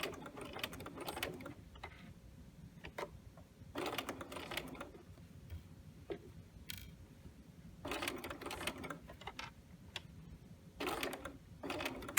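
A sewing machine stitches a fly zipper around a curve in several short runs of rapid, quiet rattling, separated by pauses as the fabric is adjusted.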